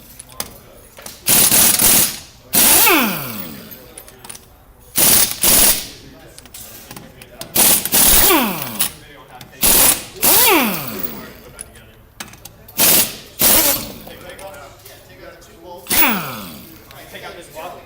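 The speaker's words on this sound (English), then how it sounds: "We're going to start by taking off the wheel." A ratchet zips in repeated bursts while a wheel is taken off a car for brake pad removal, short loud clicking runs with pauses between them.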